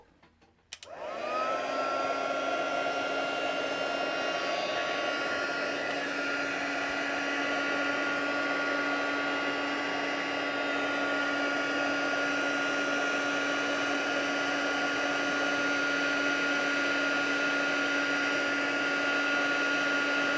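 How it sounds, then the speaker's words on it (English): A heat embossing tool switches on with a click and blows steadily, a loud continuous whooshing whine with a high motor hum that holds for the whole stretch. "You might get a little noisy here while we do our embossing."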